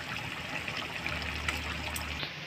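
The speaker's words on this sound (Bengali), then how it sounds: "এবার একটু সরষের তেল দিয়ে নামাই নেব।" Mustard oil poured into a pan of pumpkin stalks, ridge gourd, potato and poppy-seed paste makes a soft, close, continuous trickle lasting about two seconds before cutting off.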